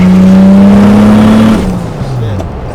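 Loud, close engine drone from a turbocharged BMW E30 pulling in third gear after a downshift, holding a steady tone before easing off and dropping in pitch, with a voice underneath.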